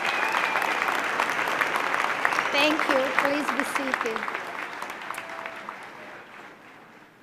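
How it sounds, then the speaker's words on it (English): Sustained applause fills a large hall at a Wentworth Institute of Technology commencement, steady and broad before gradually thinning out, with someone speaking briefly over it midway. "Let's give him a huge round of applause."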